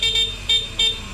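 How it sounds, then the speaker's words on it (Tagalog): An e-bike horn sounds three short, loud, bright honks in quick succession, shrill like a motorcycle horn, with no voices over it. "Busina niya pang motor eh."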